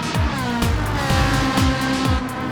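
A race car on the Monza circuit in a racing video game brakes and drops through the gears. Its engine snarls loudly and steadily, with repeated sharp pitch sweeps at each gear change and a faint tyre edge underneath.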